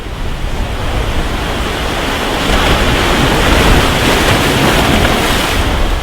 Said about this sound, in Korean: 발밑에서 부서지는 파도 소리를 들으며